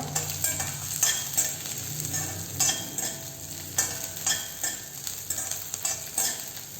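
Onions, chilies and tamarind sauté in a pan with a continuous sizzle, broken by rhythmic scraping strokes of a spoon stirring every half second or so, no voices.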